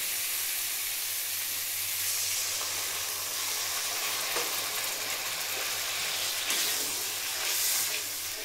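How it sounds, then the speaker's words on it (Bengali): Water poured into a hot pan of Bengali egg curry sets off a steady, close hiss and sizzle of steam and frying oil that runs the whole time, with faint stirring scrapes underneath. "এবার দেখুন জল দিয়ে দেবো।"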